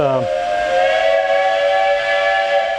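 A steam train's whistle sounds loud and close, a sustained chord-like blast that opens with a brief pitch slide and holds steady for nearly three seconds, with a soft hiss underneath.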